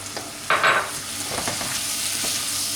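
Ground meat and tomato frying in a pan for Hasan Paşa köftesi, a soft continuous sizzle with a brief louder crackle burst near the start and faint stirring scrapes.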